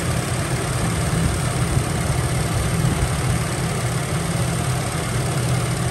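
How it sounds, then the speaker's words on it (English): A 2013 Chevrolet Traverse LTZ engine idles steadily and alone, a continuous low rumble with an even mechanical hum that holds at a constant level throughout. "Just wanted to take another video of the engine so you could listen to it."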